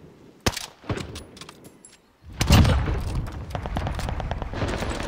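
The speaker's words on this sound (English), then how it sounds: "One bomb dropping into the area." Bomb dropped into a combat zone in a shooter game: scattered sharp gunfire cracks, then a brief quiet before a loud, close blast that rolls into sustained rumbling debris and further shots.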